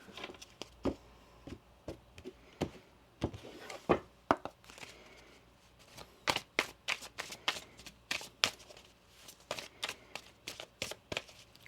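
Tarot cards are shuffled close up, a quick series of crisp riffling snaps and flicks in irregular bursts, with no talking.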